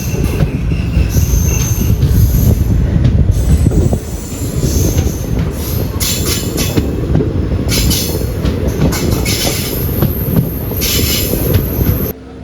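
A passenger train pulls out of Avaneeswaram railway station on a curved track, wheels squealing in loud, sustained high-pitched whines over a constant heavy rumble of rail cars rolling close by.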